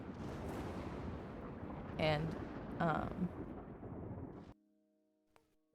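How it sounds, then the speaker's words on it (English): A thunder sound effect plays as a long, loud, deep rumble with a couple of swelling cracks, then stops abruptly. A voice speaks briefly near the end. "That was thunder. Oh, that was thunder."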